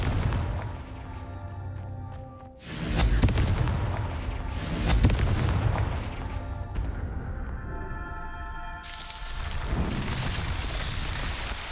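Explosive Confringo spell blasts in the Hogwarts Legacy video game, with several loud booming bursts and rumbling aftermath over a low game backdrop, sometimes overlapping.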